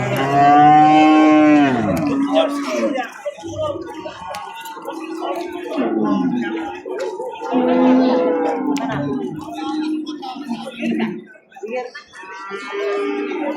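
Cattle moo repeatedly at a livestock market in Qarshi, Uzbekistan, long low calls that rise and fall, with several animals close by and a busy crowd murmuring and talking around them.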